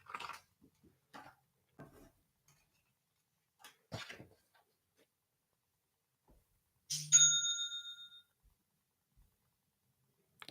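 A cash-register style order notification rings once at about the middle, a bright chime with a ringing tail. Before and after it come a few faint, scattered taps and rustles in a quiet room.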